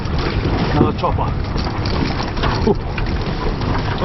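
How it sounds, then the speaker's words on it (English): Strong, gusty wind buffets a small fishing boat on the Swan River during a tailor fishing trip, a steady loud roar with bumps on the microphone and brief voices underneath. "this wind is shocking"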